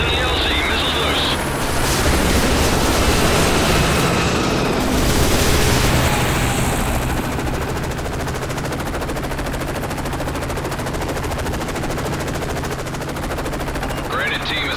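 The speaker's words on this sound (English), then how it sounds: "Missiles loose." In Call of Duty: Modern Warfare 3, missiles launch and explode amid dense rapid gunfire, with a loud continuous barrage, booming blasts early on and voices calling out over the combat.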